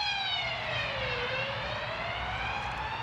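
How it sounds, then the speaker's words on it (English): A police car siren wails as the car races past through Plymouth, loud and steady, its pitch sliding down and back up again over a few seconds with a low traffic rumble beneath. "Police car's just gone racing by with the sirens on."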